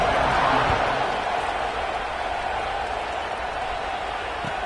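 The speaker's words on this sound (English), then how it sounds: "They're set to kick it off, and this crowd now ready to get behind them." Football stadium crowd cheering before kickoff, a broad steady roar of many voices that is loudest at the start and eases slightly, with no clear speech.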